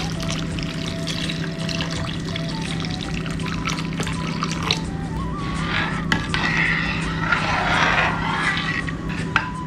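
Thick first coconut milk is poured into simmering parippu pradhaman, making a soft, continuous liquid pour with faint splashes over a low steady background hum.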